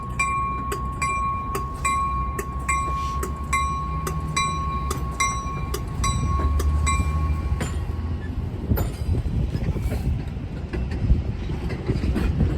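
An 8-car commuter train rumbles past nearby on Chicago's Roosevelt Road, with rhythmic clacking over the rail joints, steady wheel noise and some wind buffeting the microphone.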